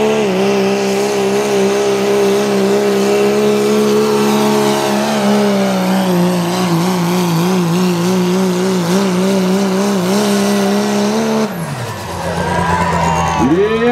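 A diesel pulling truck's engine revs hard and steadily for a long stretch, loud and close, then drops off near the end. An announcer talks over the noise at an outdoor truck-pull competition.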